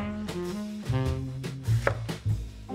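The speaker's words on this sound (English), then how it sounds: "Now we're going to slice our apples, cut them in half, cut the ends off" Knife slicing apples on a board, several distinct cutting thunks in an uneven rhythm, close and fairly loud with no talking.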